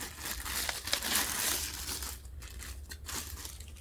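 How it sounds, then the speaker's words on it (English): A small plastic bag crinkles and crunches as it is pulled off a CamDuck hidden-camera smoke detector, with close, continuous rustling that thins into intermittent crackles. "So this thing is put in a little plastic bag"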